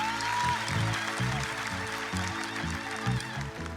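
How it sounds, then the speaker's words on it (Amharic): A church congregation claps together during a sermon, a steady wash of hand claps layered over rhythmic low keyboard or bass notes that carry on throughout. "አጨብጭቡ ለጌታ ክብር።"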